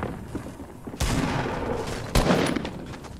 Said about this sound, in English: He's just shooting everyone.